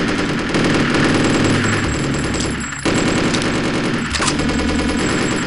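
Rapid machine gun fire in a video game rattles loudly and nearly nonstop in close, dense bursts, with brief dips between volleys.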